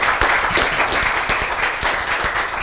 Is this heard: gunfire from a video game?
no